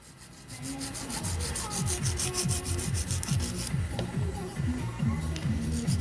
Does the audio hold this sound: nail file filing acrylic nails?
yes